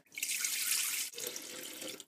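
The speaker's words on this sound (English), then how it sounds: "So into our Thermochef jug with our soy milk" Homemade soy milk is poured into a Thermochef jug for making soft tofu, a steady close splashing stream that breaks briefly midway and then resumes, with no talking.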